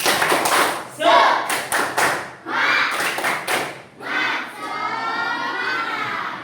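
Classroom of children doing a rhythmic spirit clap, bursts of clapping in short patterned groups mixed with shouted chant, ending in a long sustained group shout.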